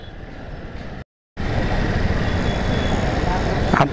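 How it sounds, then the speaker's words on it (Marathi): Heavy traffic on JM Road in Pune rumbles continuously around a moving motorbike, a broad roar of engines and wind with a brief dropout, then steady loud road noise. "जर ट्रॅफिक बघितली तर भयानक प्रमाणात ट्रॅफिक आहे"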